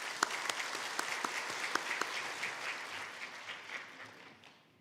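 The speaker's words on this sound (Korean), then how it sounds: "자, 나오실 때 박수 좀 쳐주시죠." A church congregation applauding during a Sunday worship service, a steady wash of clapping with a few crisp individual claps near the start, gradually thinning and fading out.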